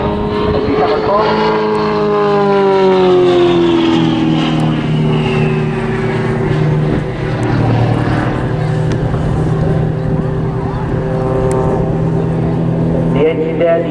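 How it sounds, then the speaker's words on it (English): A display aircraft's 350-horsepower Lycoming AE10 580 engine drones loud and continuous at the Southport Airshow, its pitch sliding as the plane drifts across, while a commentator talks over it throughout. "There, the Lycoming AE10 580, 350 horsepower."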